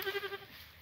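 Young goats bleat in a short burst of several quick, wavering cries at close range, fading into quiet farmyard background as they are fed honeysuckle.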